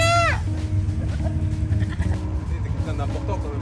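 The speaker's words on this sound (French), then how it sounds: "le bruit de la chèvre qui apparemment m'appelle" A goat in Cap Skirring, Senegal, gives a loud, close bleat at the start, then further wavering bleats follow amid background noise and a hint of voices.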